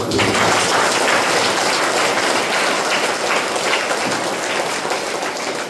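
A church congregation claps in praise during a worship service: sustained, dense applause from many hands, steady and fairly loud from start to finish with no talking over it.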